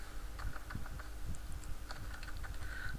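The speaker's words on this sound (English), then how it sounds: "I'll just type here" Rapid clicking of a computer keyboard as someone types text while building a maze game, steady irregular keystrokes close up with no talking.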